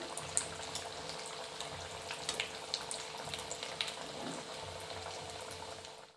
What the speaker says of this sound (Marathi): पनीर आलू टिक्की जी आहे ती तेलामध्ये चांगली तळून घ्यायची आहे, खरपूस अशी भाजून घ्यायची आहे